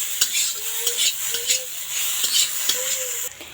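Cut roti pieces being stirred into noodles in a hot pan: a spatula scrapes and tosses in repeated strokes roughly every half second over a constant loud sizzle, close by.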